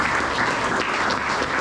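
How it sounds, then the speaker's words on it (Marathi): Dense, steady applause from an audience at a public lecture event, many hands clapping loudly and continuously without a break. "आपण एकदा जोरात टाळ्या वाजवून अभिनंदन करतो"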